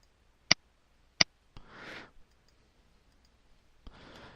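A computer mouse clicks twice, crisp isolated taps about a second apart, followed by faint softer clicks and brief rustling in a quiet room.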